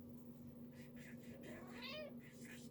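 A female house cat meows indoors, a couple of rising, drawn-out calls near the end, heard close and clear over a steady low hum.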